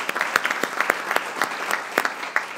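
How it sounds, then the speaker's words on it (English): Applause at a school board of education meeting, a room of people clapping steadily throughout, heard moderately close with distinct individual claps standing out. "please join me in a round of applause"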